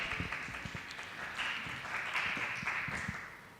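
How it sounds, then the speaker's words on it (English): A faint round of audience applause greets a student participant at a university entrepreneurship intervarsity event, soft, even clapping heard at a distance for a few seconds. "Can we give her a round of applause?"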